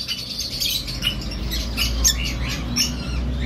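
Red-rumped parrots at an exhibition squawk and chirp in quick, overlapping bursts, fairly close and moderately loud over a low background hum.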